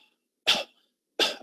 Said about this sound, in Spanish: aquí tuvo cuatro tosidas